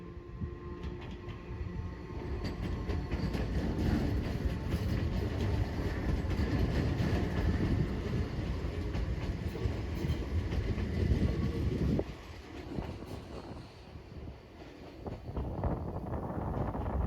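An Enoden train on the Kamakura line rumbles past close by with a steady rolling clatter, wind buffeting the microphone, before the noise drops off abruptly and fades to a quieter hum.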